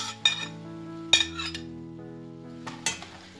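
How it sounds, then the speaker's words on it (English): Spoon stirring a tomato and onion sauce with spices in a metal pan, a few sharp clinks against the pan over a quiet background, close and isolated. "So now we are ready to mix in with all of our spices."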